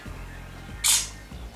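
A single bright digital shutter click from an Allview Alldro 2 Speed HD tablet camera, brief and fairly loud, over a quiet low hum.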